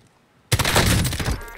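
Gunfire in Call of Duty Warzone: after a quiet half second, a loud, sustained burst of rapid shots erupts and keeps rattling close by to the end.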